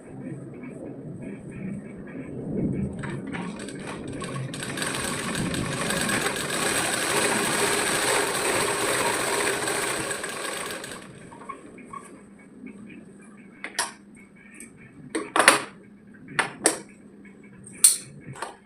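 A sewing machine stitches a fold on a children's petticoat top, running in a steady, close whirring burst for several seconds before stopping, followed by scattered light clicks and handling sounds.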